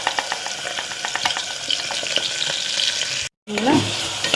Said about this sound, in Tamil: இந்த மாதிரி அரைச்சி வந்து நல்லா வதக்குங்க